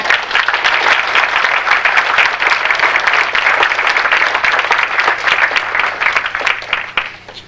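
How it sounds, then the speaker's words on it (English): Loud, close, continuous applause from an audience for young actors at a youth film gala, dense even clapping that holds for several seconds before easing off. "Let's have a round of applause for all our young actors."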